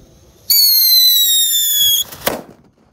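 A shrill, steady whistle from a red whistling firework for about a second and a half, cut off by a sharp bang, then quiet, at night.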